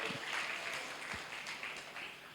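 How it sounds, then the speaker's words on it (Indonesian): Applause from a church congregation during a Thursday worship service, a dense steady clatter of many hands clapping at moderate distance, sustained throughout without talk. "Kayaknya tepuk tangannya kurang."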